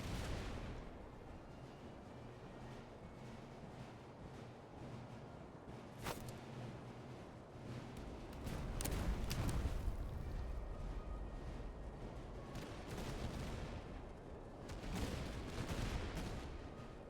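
Battle in the video game Master of Command: distant rolling artillery booms and scattered crackling gunfire over a steady noisy background, with louder volleys bursting in partway through.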